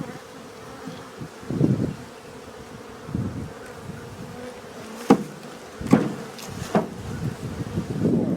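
Honey bees buzzing around an open hive while frames and bees are moved between boxes, a steady low hum with several louder swells as bees pass close to the microphone, plus a few sharp knocks.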